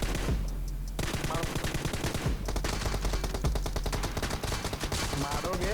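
Rapid automatic M4 assault rifle fire in a mobile battle-royale video game, dense sustained bursts with brief pauses, loud and close throughout.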